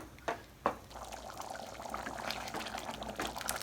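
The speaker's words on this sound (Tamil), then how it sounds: "அதுக்கு தகுந்த அளவுக்கு தண்ணி சேர்த்துக்கலாம்" Water pours steadily into a pot of field bean (avaraikottai) gravy with a soft, continuous splashing, preceded by a couple of sharp knocks nearby.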